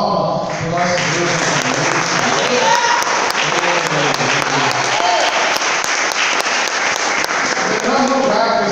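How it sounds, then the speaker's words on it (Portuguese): A church congregation bursts into strong, sustained applause during a worship service, loud dense clapping filling the room, with sung or shouted voices and tonal sound mixed in beneath it. "uma forte salva de palmas para o nosso Deus."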